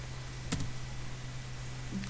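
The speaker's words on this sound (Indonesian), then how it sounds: "aku tambahkan ke bawahnya dengan cara kembali lagi dengan menekan tombol tab pada keyboard" The Tab key on a computer keyboard is pressed once, giving a single faint click over a steady low hum in a quiet room.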